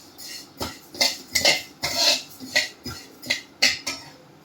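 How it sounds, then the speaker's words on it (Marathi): Flax seeds roasting in a pan over medium heat, with about eight sharp scraping, clinking strokes of the stirring spoon in an uneven rhythm, close and fairly loud, and no voices. "मध्यम आचेवरती मी सगळं हे भाजून घेते, जवस भाजून"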